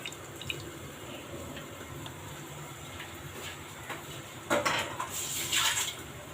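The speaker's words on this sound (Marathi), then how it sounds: "पाणी गाळून घ्यायचं सगळं कसं" Water is poured off soaked soya chunks in a home kitchen, a soft running trickle with brief clinks of a pot or utensil toward the end, faint and close, with no talk.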